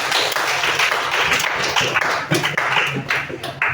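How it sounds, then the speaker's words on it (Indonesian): A classroom group claps for a student, a dense patter of hand claps running steadily throughout, fairly loud and close with no voices over it. "Oke, tepuk tangan untuk Kevin."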